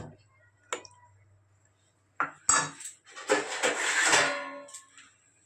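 Metal utensil scraping and clattering against a cooking pot while food is stirred in a home kitchen, a burst of busy clinks and scrapes after a few isolated knocks, fairly close.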